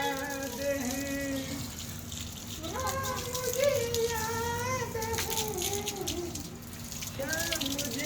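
A running water tap at home pours in a steady close hiss and splash, heard under ongoing talk and high-pitched children's voices.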